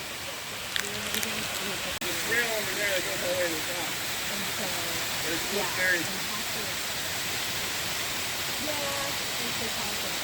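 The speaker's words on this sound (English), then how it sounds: "this really cool waterfall called Jones Waterfall" Jones Waterfall pours in a steady, full roar of falling water that holds nearly level throughout, with a few faint chirps and brief bumps riding over the continuous wash.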